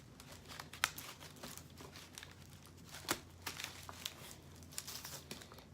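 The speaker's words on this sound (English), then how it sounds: "now it's time to attach the aluminum foil" Aluminum foil crinkles steadily and close while being attached to a homemade ring light, with sharp crackling peaks scattered through a continuous rustle.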